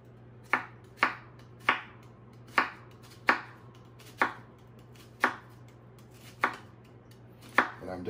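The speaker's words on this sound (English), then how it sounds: "I'm dicing this up really fine." Knife chopping bell pepper finely on a cutting board: about a dozen sharp, evenly spaced chops, close and clear, with a low steady hum behind and no talking.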